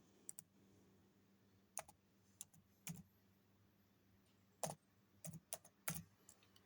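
Someone types a short command into a Windows computer, giving a handful of sharp, separate keyboard key clicks in irregular bursts with short pauses between them, close and fairly quiet, with no talk.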